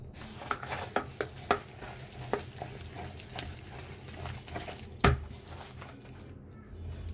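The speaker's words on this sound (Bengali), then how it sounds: "এখন সবকটি উপকরণ একসাথে ভালোভাবে মিশিয়ে নিতে হবে" Spiced batter for a fried mola fish dish being stirred by hand in a bowl, with soft wet squishing and scraping strokes in an irregular rhythm, close and fairly quiet, with one louder knock near the end.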